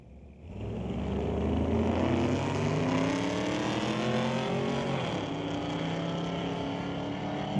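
A 1980 Malibu and a 1967 Ford roar together in a street-legal drag race at a raceway, a loud, sustained engine howl that rises in pitch as the two cars accelerate hard down the strip.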